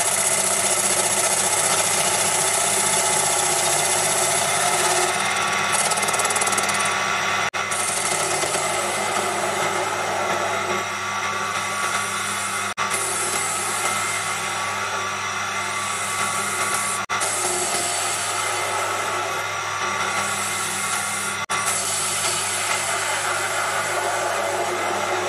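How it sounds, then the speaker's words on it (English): A Proxxon PD 250/e lathe turns a large coat-hook part at low speed, giving a steady, loud motor whine and broadband hum that runs unbroken throughout with slight shifts in load. "so I ran the lathe quite a bit slower."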